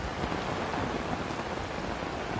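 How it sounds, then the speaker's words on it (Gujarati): Heavy monsoon rain pours down on Kabarka village in Dwarka district, Gujarat, in a dense, constant hiss, drumming steadily on surfaces without a break. "વરસાદ પડી ગયો જોરદાર હજી ચાલુ છે"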